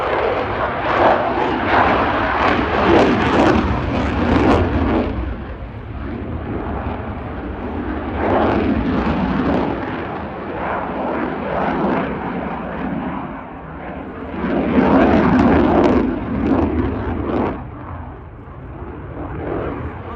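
A Eurofighter Typhoon fast jet flies a display at Cosford Airshow 2025, its engine roar swelling and fading in three loud passes that rumble broadly in between.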